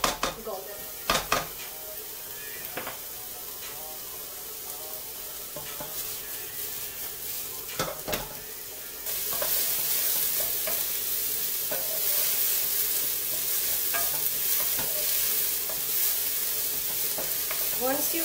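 Chopped onion fries in olive oil in a pan, a steady close sizzle punctuated by utensil scrapes and clinks that grows louder and brighter partway through as it is stirred.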